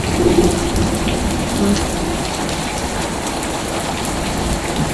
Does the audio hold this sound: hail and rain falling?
yes